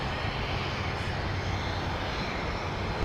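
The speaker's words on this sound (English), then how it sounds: "It's an Embraer Phenom 300E." An Embraer Phenom 300E business jet at Minneapolis–St. Paul airport produces a steady, broad engine roar that holds evenly loud throughout, with no voices over it.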